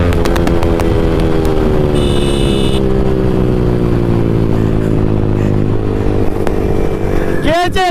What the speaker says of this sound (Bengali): গাইস কি টানছে ওরা ভাই সুপার বাইক দিয়ে